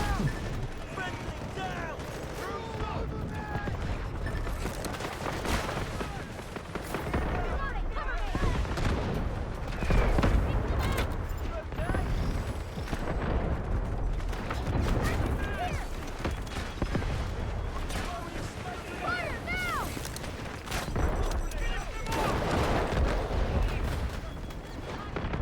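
A video game artillery barrage rumbles on continuously as muffled booms and distant blasts, while voices and game chatter talk over it throughout.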